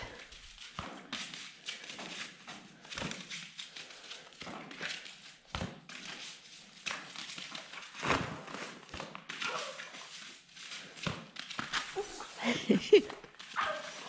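Two dogs play rough over a ball close by, giving scattered sharp barks, yips and whimpers in uneven bursts between quieter scuffling, growing livelier toward the end.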